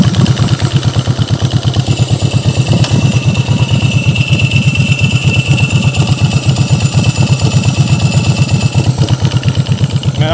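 A custom Twin Cam bobber motorcycle with a dry clutch idles close by, its engine thumping in a steady, lumpy rhythm under a constant rattling clatter from the clutch, loud and alone throughout.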